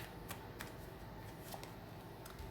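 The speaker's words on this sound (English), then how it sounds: "Just shuffling." Soft, quiet tarot card shuffling with a few crisp riffles and light flicks at irregular intervals.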